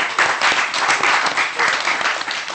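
A studio audience at a morning TV show claps in a dense, loud, steady burst of applause that carries through without letting up.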